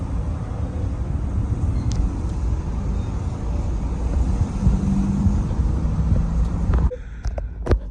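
A Toyota Tacoma on 35-inch tires driving, giving a steady close rumble of engine and road roar inside the cab that ends abruptly, leaving quieter clicks and small knocks.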